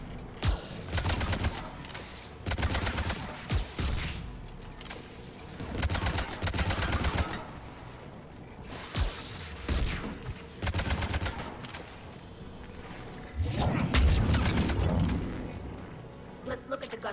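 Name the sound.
anti-aircraft guns firing in video game Mass Effect 3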